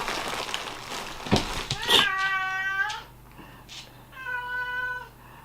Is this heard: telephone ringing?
no